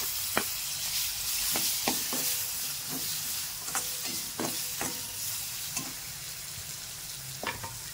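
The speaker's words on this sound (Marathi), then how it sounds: "त्याच्यानंतर एक टोमॅटो कापलेला आहे तो टाकते आहे." Chopped tomato sizzles in hot oil with spicy homemade red chilli powder while a spoon stirs and taps against the pan. A steady frying hiss runs throughout beneath repeated sharp clicks, close up and without speech.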